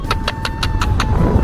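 Heavy car traffic on the Ahmedabad ring road highway, with a dense, steady engine rumble close by and a rapid run of evenly spaced pulses over a thin steady tone.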